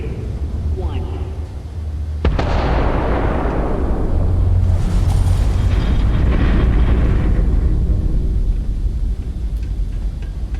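Particle detonation explosions in a video game: a sudden loud burst about two seconds in, followed by a sustained roaring, rumbling blast that swells and slowly fades over several seconds.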